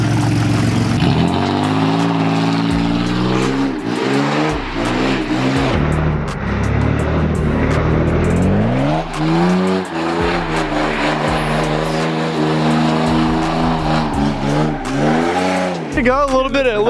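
A pit bike fitted with a Yoshimura exhaust revs hard during a race, loud rising and falling engine pitch sweeps with tire squeals, mixed with crowd or rider voices throughout.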